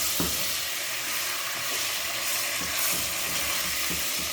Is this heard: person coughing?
no